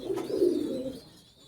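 A single imported high flyer pigeon gives a soft, low coo lasting about a second and then fades, heard close and alone.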